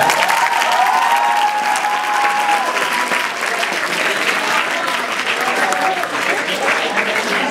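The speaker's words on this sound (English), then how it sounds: "Please give them a round of applause." Sustained audience applause at an event, dense and steady throughout, with faint voices mixed into the crowd noise.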